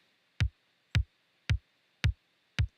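Five punchy drum hits through a tape saturation plugin, evenly spaced about half a second apart, each with a deep low thump and a bright crack on top, over a faint hiss.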